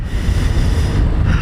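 Sea waves at Mattu Beach, where a river meets the sea, produce a brief, loud surf rush mixed with heavy wind buffeting on the microphone.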